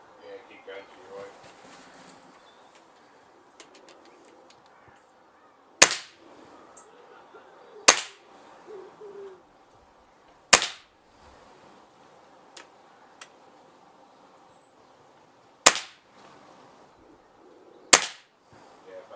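Five sharp shots from a Gamo Whisper air rifle fitted with a budget scope, each a crisp, loud crack spaced several seconds apart, with quiet talk and faint handling noises in the gaps between them.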